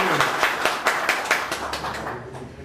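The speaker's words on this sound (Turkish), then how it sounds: "Alkış arkadaşlar" Regular, close claps at a gathering of a timber merchants' chamber, a rhythmic run of about a dozen beats thinning toward the end, with a faint voice underneath.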